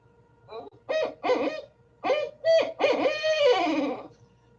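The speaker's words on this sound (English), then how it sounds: "The who cooks for you and who cooks for you all is a kind of the classic barred owl mnemonic" Clear, nearby owl hoots in a rhythmic phrase of short notes ending in a longer, wavering drawn-out call, against a quiet background.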